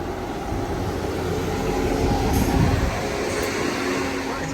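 A train rumbles steadily at Bristol Temple Meads station, a continuous close rolling drone of carriages at a platform that swells slightly midway and then evens out.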